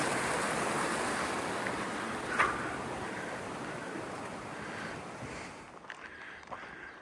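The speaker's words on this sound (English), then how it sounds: "This is Bullock Yard Creek." Flowing water of Bullock Yard Creek along an alpine walking track near Thredbo, a steady broadband rush running unbroken and close throughout, with a brief louder splash partway through and quieter moments near the end.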